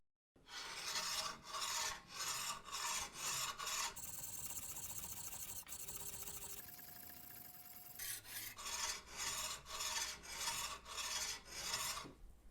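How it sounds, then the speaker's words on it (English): A steel chisel is sharpened on coarse 80 grit sandpaper laid on glass, making rhythmic rasping back-and-forth strokes, close and alone, with a smoother grinding stretch in the middle. "I'm going to go back to the sandpaper on glass, but I'll use the coarser side, which is 80 grit sandpaper from a belt sander"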